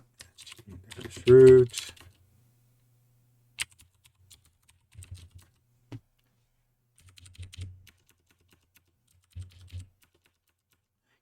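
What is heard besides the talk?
typing on computer keyboard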